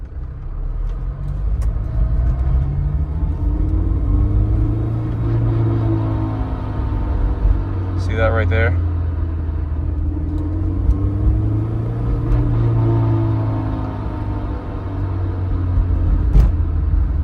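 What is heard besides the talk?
Honda S2000 throwout bearing noise while driving, on and off gas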